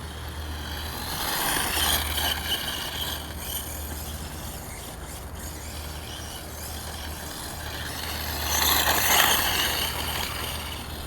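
A Redcat RC monster truck running on 8S with a 22-tooth pinion, driven at a quarter throttle, gives off a steady whirring motor and drivetrain noise that swells near the start and again toward the end, with no talking.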